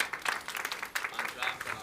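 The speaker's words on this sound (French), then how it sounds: "bravo, on peut l'applaudir." Audience clapping after a bartender's turn in a mixology battle, a short burst of scattered claps from a small crowd, moderately near, with some voices mixed in.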